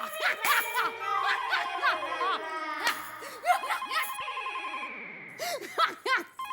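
A telephone bell rings in rapid repeated trills, with chirpy warbling tones and voices over it, moderately loud and close.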